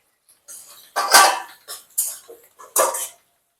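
Boiled jackfruit dropped into spices frying in a pan for a vegetarian kathal kalia, giving several short sharp sizzling bursts and clatters in quick succession, close up with silence between them.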